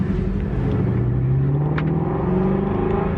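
A 2017 Ford Mustang GT350R engine rumbles deep and steady from inside the car, with a low droning tone that rises slightly as it pulls.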